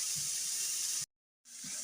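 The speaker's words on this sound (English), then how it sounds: "It's sizzling, but the sizzling is the asparagus." Asparagus fresh from the oven sizzles with a steady, bright hiss beside baked lemon chicken, a continuous close crackle that drops out briefly before resuming.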